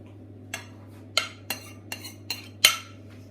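Flour and cocoa powder being sifted through a sieve for chocolate brownies: six sharp metallic taps and clinks spaced about half a second apart over a low steady hum, with no talking.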